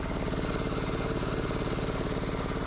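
A diesel-repowered Gravely C10A snow blower engine runs steadily, a loud, close, rhythmic chugging with no pauses or talk.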